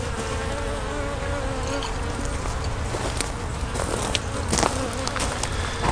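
Close, continuous buzzing of bees swarming around an opened hive, loud and busy, with a few knocks and rustles mixed in.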